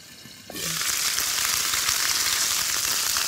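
Chicken drumsticks in galbi-style marinade sizzle and fry in a pan, a loud steady hiss that bursts in suddenly and then holds, close and continuous, with no talk.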